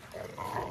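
A dog lets out a low, rumbling growl close by, rising and holding for a moment in a quiet setting.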